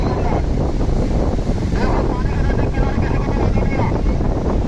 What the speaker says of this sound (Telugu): సముద్రం చాలా బాగా ఎక్కువ అలలు అవన్నీ బాగా ఎక్కువగా వస్తున్నాయి